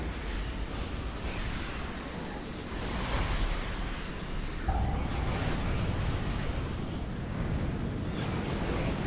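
A sweeping wave effect in World of Warcraft during an Aberrus raid fight, heard as a steady surf-like rushing wash that swells slightly partway through, fairly quiet and without talk.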